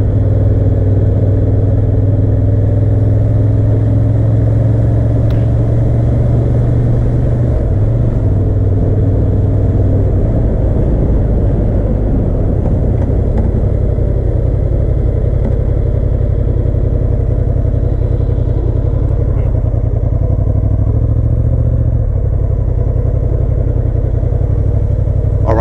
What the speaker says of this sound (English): Today we have the test ride for the new Honda Hornet 750 for 2023.